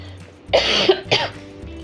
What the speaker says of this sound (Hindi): खांसी मुझे बख्श नहीं रही